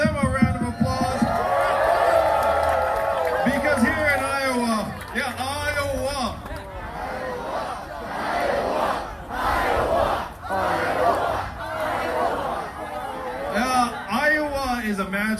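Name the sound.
crowd cheering and applauding at a rally in Iowa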